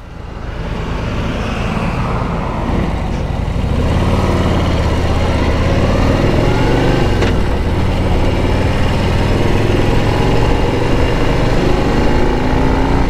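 A 2021 Harley-Davidson Street Glide Special with the 114 engine runs at a steady, loud idle, a continuous deep rumble with no voices over it.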